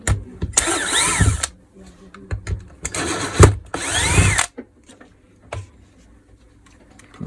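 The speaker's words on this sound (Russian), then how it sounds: "Пружины сняли и откручиваем два самореза." Cordless screwdriver backing out two self-tapping screws while a Makita JR3051T reciprocating saw is disassembled, in several loud whirring bursts separated by pauses, with light clicks and handling noises between them.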